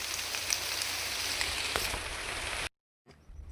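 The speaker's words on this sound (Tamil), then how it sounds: "மழை வந்துருச்சு" Steady rain falls on rocks high in the hills, a dense continuous patter that cuts off abruptly, leaving a brief silence before faint rain returns.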